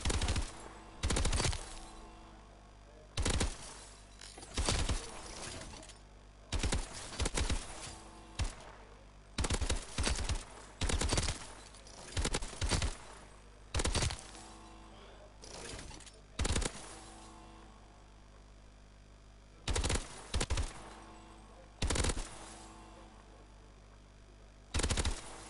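Dual-wielded guns in a Call of Duty game fire in loud automatic bursts that repeat every second or two over a steady background hum, with no talk.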